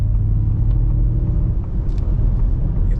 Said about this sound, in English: I'm gonna hit the gas,